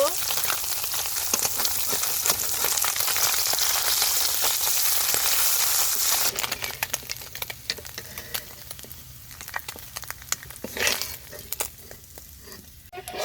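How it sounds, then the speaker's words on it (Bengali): Chapila fish fry in a pan with a loud, dense sizzle that drops to a quieter, uneven crackle about halfway through, with a few sharper pops near the end and no talking. "মাছ ভাজিগুলো উল্টে নিব।"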